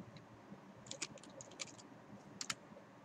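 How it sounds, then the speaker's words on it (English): Typing on a computer keyboard, a quiet burst of light key clicks in short irregular clusters against faint room noise. "so I'm going to type in the area of study"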